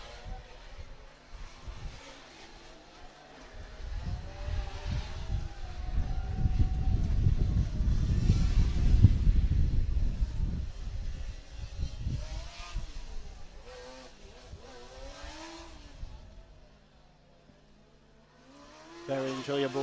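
A Team Estaca (Paris) Formula Student race car runs the autocross circuit, its engine swelling into a loud, rough pass near the middle and then fading, with a commentator talking over it.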